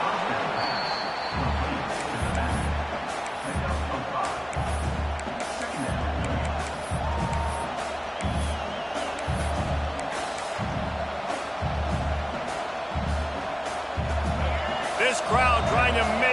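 Loud college football stadium crowd at Clemson versus UCLA, a sustained roar with rhythmic stomping thuds underneath and broadcast commentary talking over it throughout.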